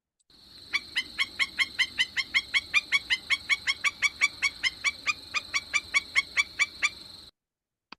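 A wetland bird, likely a stilt, gives a long, steady series of about twenty-five sharp yapping calls at an even rhythm, clear and fairly close, with faint background noise and no talking.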